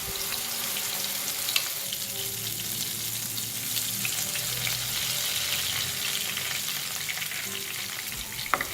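Chili paste, curry leaves and a cinnamon stick fry in hot oil for a Malaysian chicken curry, giving a steady close sizzle with a faint spatter and an occasional light tap, and no voices.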